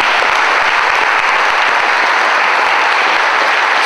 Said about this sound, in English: I'd like to give the band and the orchestra a nice round of applause